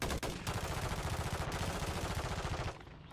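Rapid automatic gunfire from a shooter video game rattles on continuously at close range, a dense, loud run of shots that eases off just before the end.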